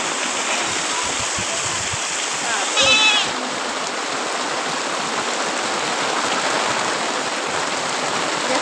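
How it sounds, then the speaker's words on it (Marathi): Steady, dense hiss of heavy unseasonal rain pouring nonstop, with a brief splashy burst partway through. "इकडे बघू शकता किती मोठा पाऊस चालू आहे"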